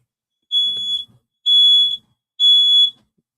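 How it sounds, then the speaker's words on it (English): A smoke alarm sounds three loud, shrill beeps, each about half a second long, evenly spaced with silence between them. "Oh, smoke alarm's going off."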